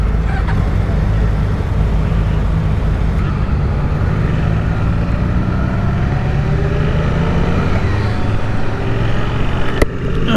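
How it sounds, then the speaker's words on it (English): Suzuki GSX-8R motorcycle engine while riding, a loud steady drone with rising and falling pitch as the rider works through the revs, with wind rush and one brief sharp click near the end. "this motor feels good on this bike. It's got good torque down low"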